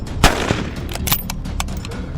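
Rifle shots ring out during a feral camel hunt in Australia, with a loud close report followed by several quicker, fainter cracks and echoing thumps.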